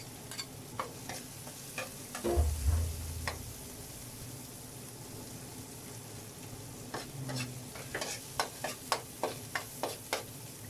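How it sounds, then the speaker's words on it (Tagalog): Garlic and onion fry for spaghetti, a low sizzle running under irregular utensil scrapes and a quick series of light clicking taps as the pan is stirred, with no voices. "Habang nagluluto tayo ng ating bawang sibuyas sa kabila"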